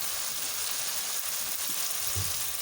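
Onions frying in a pan for Bombay chicken biryani, giving a steady, even sizzle with a soft hiss that holds throughout, close by and moderate in level, with no talking.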